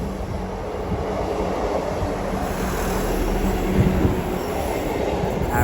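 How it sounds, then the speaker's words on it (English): A Class 158 diesel train runs through Deansgate station in Manchester, a steady loud rumble of wheels on rail with a thin squeal of wheels and light clatter throughout, fairly close and continuous with no talking. "Passing through now is at Eastman's Railway service from Norwich to Liverpool Lime Street."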